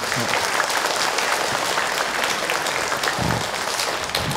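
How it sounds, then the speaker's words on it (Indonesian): Studio audience clapping loudly and continuously in a religious talk show, a dense wall of applause with a few voices beneath it. "Tepuk tangan buat kita semua"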